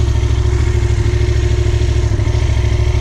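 A motorcycle engine running close by, a loud steady pulsing throb with fast even firing beats and no talking.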